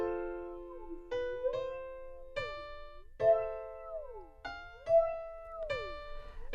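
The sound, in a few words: BLEASS Phaser effect with feedback on synth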